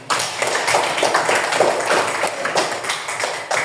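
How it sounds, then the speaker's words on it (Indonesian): Classroom applause from a group of students, a dense, steady patter of many hands clapping close by that carries evenly for several seconds with a few sharper claps standing out. "Oke, kita beri tepuk tangan."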